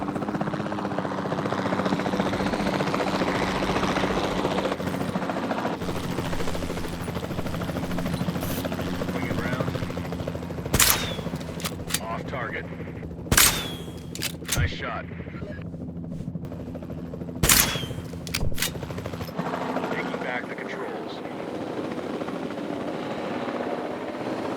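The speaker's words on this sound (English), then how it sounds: "Then the sensible thing is to take a capture team helicopter." A capture team helicopter in the video game Jurassic World Evolution 2 drones steadily throughout, a continuous rotor and engine hum, with occasional sharp sounds and brief voices over it.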